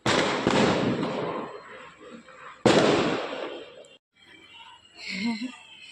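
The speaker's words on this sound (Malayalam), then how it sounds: "എല്ലാവരും പടക്കം പൊട്ടിക്കുന്നു പടക്കം പൊട്ടിക്കുന്നു" Firecrackers burst during Diwali celebrations in Mumbai: two loud, sharp blasts about two and a half seconds apart, each trailing into a crackling, echoing decay, followed by quieter background noise and a faint voice.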